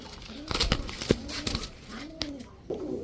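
A silver ponky pigeon pair, cock and hen, cooing near in a few soft, rising-and-falling calls, with someone talking over them and a few sharp knocks and rustles around.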